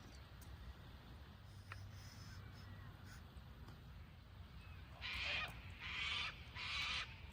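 Seagulls circling a fishing boat give three loud, harsh calls in quick succession near the end, after several seconds of steady wind and water noise on the open water.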